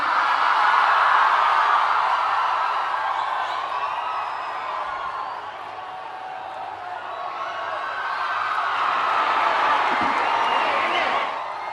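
Large crowd clapping and cheering in welcome of the Prime Minister at a formal public ceremony, a steady roar of applause that swells, dips midway and rises again, heard loud and close throughout.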